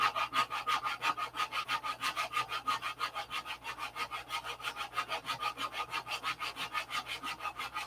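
Green filler putty on an aircraft panel is hand-sanded in quick, even back-and-forth strokes, a close rhythmic rasping that repeats steadily throughout with no talking.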